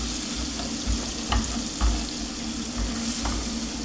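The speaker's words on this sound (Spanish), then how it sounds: "Voy a agregar la mantequilla." Butter melting and sizzling in a pan after chicken pieces have browned, a steady close hiss with a few soft stirring taps, no talking.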